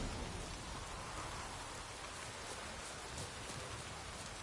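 Steady rain falls in The Witcher 3, a continuous even hiss of drops on surfaces, soft in level with no other sounds standing out.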